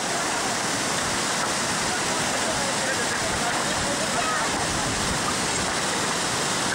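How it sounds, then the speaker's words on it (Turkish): Snowmelt water rushes across a Himalayan mountain road near Khardung La, a loud, steady broadband roar of flowing torrent that fills the whole clip without a break. "Kar suları yolu kapatmış"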